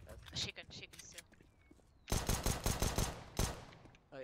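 Rapid bursts of gunfire in CS:GO crackle loudly in close succession, with voices talking over the start before the shooting takes over.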